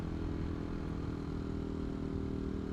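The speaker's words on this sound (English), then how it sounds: "that engine really is a kind of dominant feature of the bike" Engine of a CCM Maverick motorcycle, a Bolton-built boutique bike, running steadily with a dense, throbbing mid-low rumble and mechanical clatter, close and continuous with no talk.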